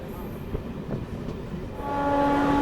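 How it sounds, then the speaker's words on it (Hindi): Modern electric passenger train on an electrified Indian line running at about 100 km/h, a steady rumble with light rhythmic wheel clatter that swells louder near the end, where a sustained horn-like tone comes in. "करीब 100 की स्पीड से चल रही है ट्रेन, पूरा हॉकिंग करते हुए"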